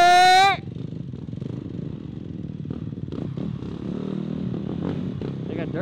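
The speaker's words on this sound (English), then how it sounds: "They got dirt bikes." Dirt bikes riding near abandoned ruins at Mount Beacon: distant engine buzz and revving rising and falling under ambient noise, after a brief high whine at the start, with moderate level throughout.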